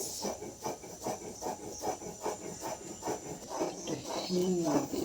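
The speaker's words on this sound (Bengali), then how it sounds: "আমার মশলাটা পুরো বাটা হয়ে গেছে" Spices are ground into a paste for homemade lemon pickle with steady, rhythmic rasping strokes that repeat about three times a second. A faint voice rises briefly near the end.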